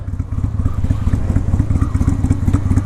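A 2002 Honda VLX 600 Shadow motorcycle engine idles and runs on light throttle, a loud, close, steady low rumble with a rapid, uneven pulsing beat and no talking.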